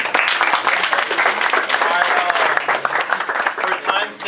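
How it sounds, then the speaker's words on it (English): An audience at a debate on whether God exists breaks into sustained applause, dense clapping from many hands in a hall, loud and continuous throughout. "For time's sake, I would ask you guys not to clap."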